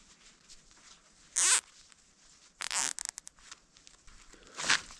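A zipper is worked during a repair job, with a few sharp rasping pulls: a long zip, a rapid stuttering run of short tugs, then one more quick pull, all close and loud against a quiet background.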